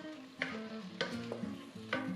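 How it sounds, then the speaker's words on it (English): A spoon stirs sofrito with paprika and fried tomato sauce in a pot, giving quiet scraping strokes at irregular intervals over a faint sizzle, close and soft. "We stir so the paprika cools down, and this will be ready in 20 seconds."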